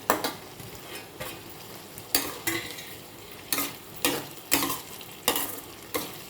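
Paneer pieces frying in a pan with already-fried tomato and onion, a soft sizzle broken by a regular run of scraping stirs, roughly one each second, close up with no talking.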